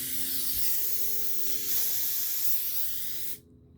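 Pressure released from a pressure switch system gives a loud, steady, broad hiss of escaping air that swells slightly partway through, then cuts off abruptly near the end.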